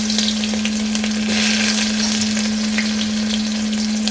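Cumin and garlic sizzle hard in hot oil for a dal tadka, a loud, dense, even frying hiss that holds steady throughout with a constant hum underneath and no talking.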